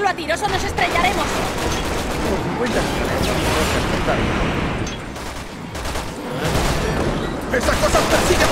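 Rapid bursts of gunfire in the video game Resident Evil 6 crackle almost continuously, with booms and mechanical clatter mixed in and a brief lull partway through.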